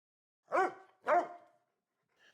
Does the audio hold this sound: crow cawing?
no